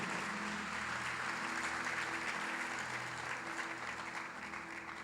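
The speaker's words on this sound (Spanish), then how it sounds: "Denle un aplauso al Señor." A church congregation applauds steadily, a dense continuous wash of many hands clapping at once, close and loud with a faint low hum beneath.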